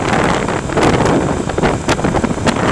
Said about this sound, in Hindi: क्योंकि हवा का दबाव बहुत शदीद है।